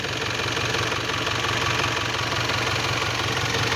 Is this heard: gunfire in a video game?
no